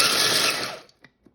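Loud whirring electric grinder grating mixed nuts (cashews, peanuts, almonds, pecans) for most of a second, then cutting out, followed by a few small knocks and rattles.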